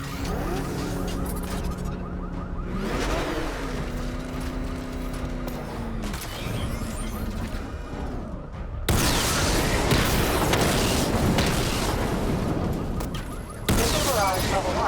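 Batman: Arkham Knight Batmobile weapons firing at targets: steady mechanical rumble with rising engine-like tones, then a loud sustained stretch of rapid shots and booms, cutting off briefly near the end before resuming.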